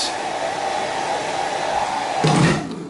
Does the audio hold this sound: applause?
no